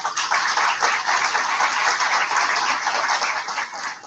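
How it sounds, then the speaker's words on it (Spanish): Sustained applause from an audience at a formal legal lecture in Huancayo, a dense even wash of clapping at steady loudness throughout, with no voices over it. "quiero pedir nuevamente un fuerte voto de aplauso"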